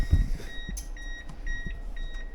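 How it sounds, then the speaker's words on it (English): Short electronic beeps from a K24 engine-swapped Mazda Miata's electrical system right after the battery is hooked up, several high chirps repeating at a steady pace in a quiet garage. "We got a beep."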